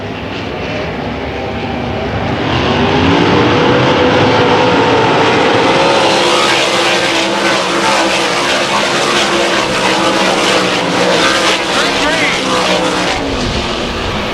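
Race cars battle wheel to wheel down the back straightaway of a short track, engines roaring loudly and steadily throughout with a commentator talking over them.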